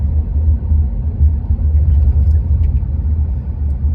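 A car drives through a tiny remote Nevada town, its engine and tyre noise a steady, loud low rumble that runs continuously without a break.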